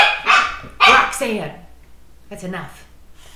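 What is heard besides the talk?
corgi dog barking at a cat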